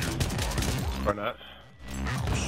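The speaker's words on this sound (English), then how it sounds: "Taking fire" Heavy gunfire in Battlefield 3 at Talah Market: a dense, rapid fusillade for about a second, then a brief lull, then more shooting. Voices can be heard in the mix.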